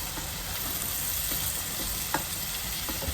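Meat fries with onions, garlic and ginger in a dense, steady sizzle, while faint stirring taps and one sharper clink of a spoon against the pan sound close by.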